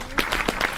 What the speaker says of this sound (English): Everyone clap for Lauren.